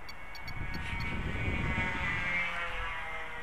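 Small model aircraft engine buzzing steadily at half throttle, a continuous raspy drone at moderate distance with no talk.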